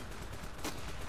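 Gunfire in the video game Ravenfield, a faint, rapid crackle of shots with one sharper burst in the middle, heard at low level against a busy background.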